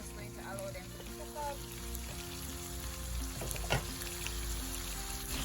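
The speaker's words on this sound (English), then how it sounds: "So we only have the vegetables left. So we're just going to allow them to cook" Vegetables and pumpkin simmer and sizzle in a pot for curry chicken back, a steady soft bubbling and frying hiss with faint clinks, heard up close and alone.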